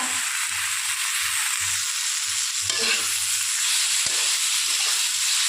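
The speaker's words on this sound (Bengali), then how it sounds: "দিয়ে ভালো করে একটু কষিয়ে নেব" A ground paste of mustard, green chili, cumin and ginger sizzles in a pan with bitter gourd, brinjal and potato, a steady frying hiss broken by rhythmic spatula scrapes and a sharp knock near the end.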